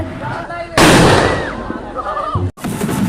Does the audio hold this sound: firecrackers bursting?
yes